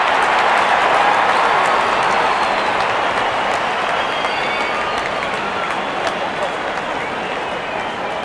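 Spectators at a cricket match applaud and cheer steadily as a broad, continuous crowd roar with scattered claps, with no pause throughout.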